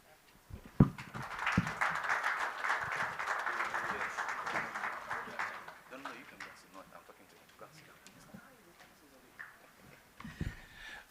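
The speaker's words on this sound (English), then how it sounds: "Let's give them one more round of applause." Audience applause at a bidders' conference for a Nigerian gas flare commercialisation programme, a steady burst of clapping that swells for several seconds, then thins out and fades as a voice speaks near the end.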